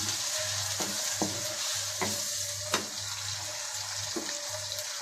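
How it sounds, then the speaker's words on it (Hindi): Food fries in oil with a constant bright sizzle and hiss, interrupted by a few sharp spatula scrapes and taps against the pan, while a low steady hum runs underneath. "तेल में फ्राई कर लें।"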